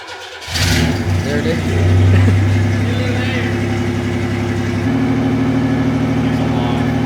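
A carbureted car engine cranks and catches right after the carb is primed, settling into a loud, steady idle with a brief rev, while people talk nearby.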